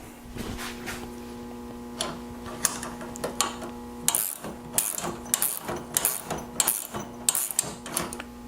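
Ratcheting clicks from tightening bolts on a spreader plate of a custom Agri-Fab pull spreader repeat in quick bursts, close and metallic, growing busier toward the end over a faint hum.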